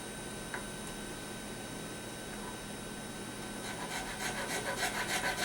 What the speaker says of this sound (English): Now I'm just going to come in with this knife file.